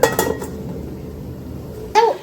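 A lid is set onto a pot of simmering crab gravy, giving a sharp metallic clink at the start and another brief clatter near the end, with quiet between.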